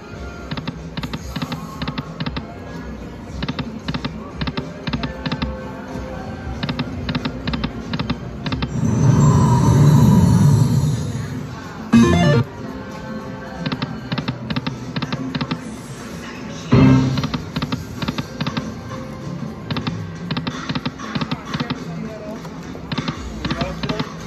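A Timberwolf slot machine in a casino plays $1.20 spins, with steady rapid clicking and ticking of reels and electronic tones and a swelling chime burst midway. Casino background noise runs throughout and a person talks at times.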